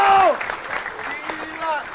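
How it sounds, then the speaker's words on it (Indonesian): Brief burst of audience applause at an Indonesian stand-up comedy show, clapping under a host's voice for about two seconds. "tepuk tangan buat Piki Prasetyo"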